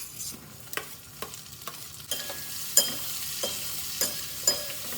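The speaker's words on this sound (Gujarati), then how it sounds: "પછી એમાં નાખી દઈએ આપણે આપણી ચોપ કરેલી અનિયન." Chopped onion fries in a pan with garlic as a steady close sizzle, broken by repeated sharp scrapes and taps of a spoon stirring at an irregular pace.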